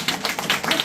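An audience at a Seoul regional steering committee meeting claps briefly, a quick cluster of close, sharp hand claps with no talk over it.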